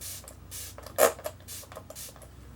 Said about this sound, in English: I'm going to spray my face with MAC Fix Plus.